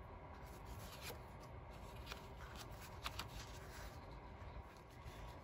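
Scissors snip through paper for a handmade art journal, cutting out a triangle shape. Steady close paper rustling and scraping carries faint crisp snips, with no talk.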